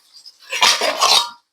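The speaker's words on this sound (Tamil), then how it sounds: "பிளேட் போட்டு மூடி வச்சுருவோம், கொதிக்கிற வரைக்கும் மூடி வச்சுட்டா" A plate set down over a cooking pot of rice as a lid gives a short clattering clink of metal against metal, close and fairly loud, with a softer knock just before.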